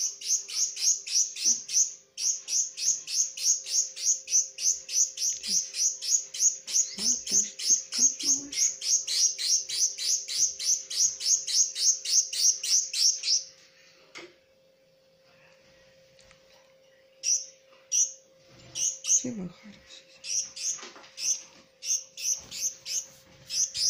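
An abandoned Lady Gouldian finch chick being hand-fed chirps in a rapid, continuous stream of high begging calls. It pauses briefly midway, then resumes in scattered bursts while a soft voice murmurs nearby.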